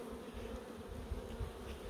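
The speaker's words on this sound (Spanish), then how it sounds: "Si no quitamos la abeja no vemos nada, Jacob." Honeybees swarming around hives as the last honey is taken from the colonies, a close, continuous droning buzz with slight swells in loudness and no talking.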